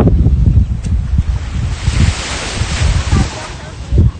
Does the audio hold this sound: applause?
no